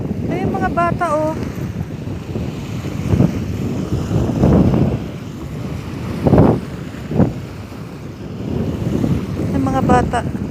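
Strong wind buffets the microphone at a seashore, a continuous rushing roar with surf beneath, swelling in several loud gusts; children's voices and brief talk come through faintly between the blasts.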